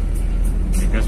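A Toyota Kijang Krista engine in fourth gear climbing a slight incline on light throttle around 1500 rpm, a steady low hum heard close from inside the car.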